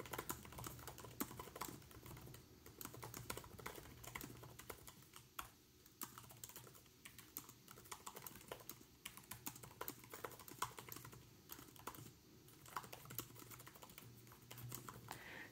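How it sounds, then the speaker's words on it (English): Rapid, continuous clicking of keys on a One Mix 4 10-inch mini laptop keyboard, steady typing at full speed, close up with no voices. "I'll show you what typing looks like"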